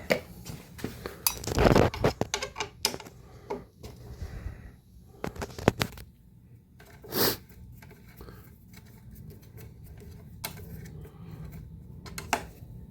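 Removed Allen bolts clink and rattle as they are set down during a repair, a scattered series of sharp metallic taps and knocks, with a louder cluster early on and sparse clicks afterward.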